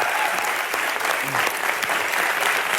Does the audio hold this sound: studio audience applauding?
yes